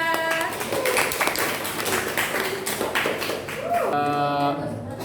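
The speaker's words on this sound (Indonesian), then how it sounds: "tepuk tangan untuk kelompok 3" Audience clapping for a presenting student group in a classroom, scattered hand claps and taps mixed with voices and some musical tones.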